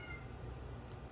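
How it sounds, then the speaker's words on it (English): A male cat in heat meows indoors, faint and muffled under a steady low background hum, with no talking. "sorry, if y'all hear my cat"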